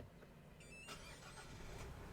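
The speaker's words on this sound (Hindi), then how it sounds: "इंजन स्टार्ट करेंगे, ये स्टार्ट होता है इंजन, हल्का सा गाड़ी हिलती है देखिए।" A diesel Kia Carens Clavis HTX from 2025 starts up: a short cranking burst is followed by a steady mid-pitched idle rumble, heard close and fairly quiet, with no talk.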